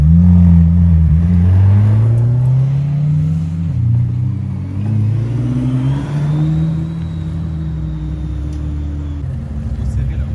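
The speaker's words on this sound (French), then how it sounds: "Ici, McLaren Senna avec la Speedtail juste derrière." McLaren Senna supercar driving past with a Speedtail close behind, a loud low engine roar swelling and falling as they pass, with a rising whine near the end and people talking over it.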